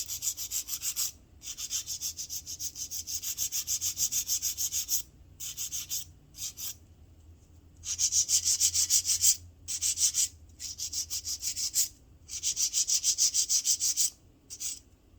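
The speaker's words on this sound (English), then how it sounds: "This is a really good file too. It's a 100 grit." Acrylic nails are being filed with a 100 grit nail file in rapid back-and-forth strokes. The rasping comes in close, loud bursts of a few seconds each, separated by short pauses, and nobody speaks.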